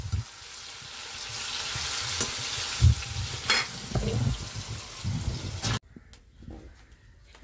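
Fish for curry fries in a pan with a close, continuous sizzle, broken by stirring scrapes and knocks. The frying stops abruptly near the end.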